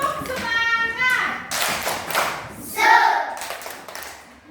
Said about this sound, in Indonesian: Tepuk semangat, tepuk semangat.